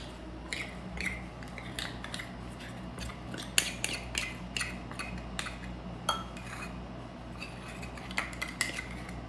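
A spoon stirring honey into a bread batter in a bowl, giving quiet, irregular clinks and scrapes of metal against the dish at close range, with no voices.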